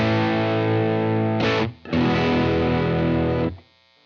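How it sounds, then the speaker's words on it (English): Lytt Effects Tone Meister pedal in soft-clipping distortion mode on a guitar, a sustained saturated chord that briefly cuts out, then rings again before stopping abruptly. "Let's get some soft clipping."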